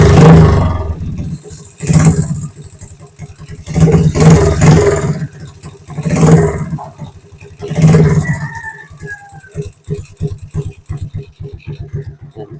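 A motorcycle engine fitted with a homemade CDI ignition starts and runs in loud, close bursts of revving that rise and fall, then settles into a rough, rattling idle.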